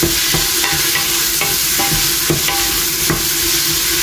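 Tomatoes and slit green chilies frying with ginger and garlic, a loud, close, continuous sizzle with repeated stirring scrapes and taps of a spoon throughout.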